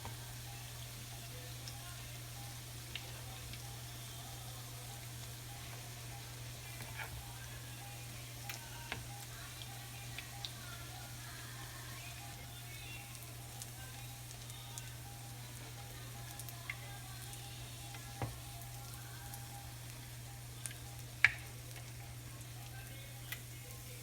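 Vegetables frying in a pan for broken rice give a faint, steady sizzle, with occasional soft clicks from stirring, heard close and quiet throughout.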